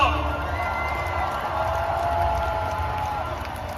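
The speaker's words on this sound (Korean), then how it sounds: "뜨거운 박수로 맞이해 주시기 바랍니다" A rally crowd at a presidential campaign event cheers and applauds as candidate Lee Jae-myung comes up to speak, a dense, continuous roar of voices and clapping filling the space without letup.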